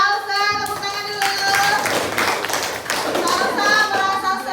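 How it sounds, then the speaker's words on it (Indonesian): Students clap together in a junior high classroom, a steady burst of handclaps running the full length, fairly close and loud, with faint voices mixed in underneath. "Salsa, tepuk tangan dulu."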